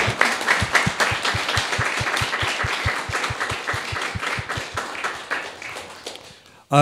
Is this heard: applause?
yes